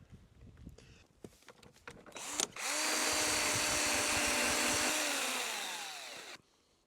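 A cordless power drill whirs steadily at high speed for several seconds, then winds down and stops as its battery dies, after some scattered clanks and handling noise.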